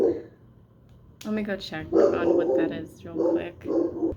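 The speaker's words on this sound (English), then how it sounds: "sorry for the dog barking." A household dog barks excitedly at garbage collectors outside, in several close bursts mixed with someone talking over it.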